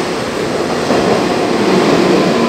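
A train pulls into a station with a loud, steady rolling rumble and hiss that swells slightly as it arrives, with no voices over it.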